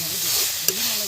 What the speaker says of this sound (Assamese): এইটো গাহৰি ভাজি আছোঁ আমি